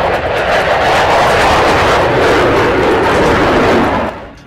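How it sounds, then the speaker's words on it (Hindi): Loud, steady roar of a fighter jet engine, close and sustained at full volume before easing off at the very end, with no talking. "ये लड़ाकू विमान अब बाइडेन का सबसे बदनाम फाइटर जेट बन चुका है।"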